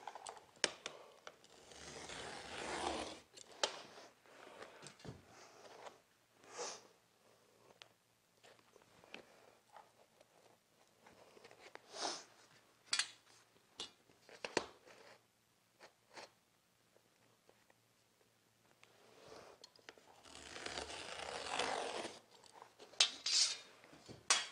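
A carpet knife slices through carpet along a straight edge, giving repeated raspy zipping strokes separated by pauses and handling noises, close up and quiet, with no talking.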